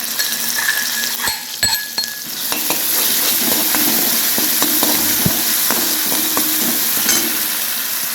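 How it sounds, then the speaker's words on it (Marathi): Crushed garlic, green chili and ginger fry in oil with a bright, close sizzle that swells after a few seconds, broken by metal spoon scrapes and clinks against the pan. "लसूण आणि हिरवी मिरची आणि अद्रक वाटलेलं टाकायचे त्याच्यामध्ये तेलात।"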